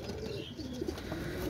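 Pakistani teddy pigeons making soft, low coos against a steady background murmur, faint and brief, with two short notes near the middle and no clear talk.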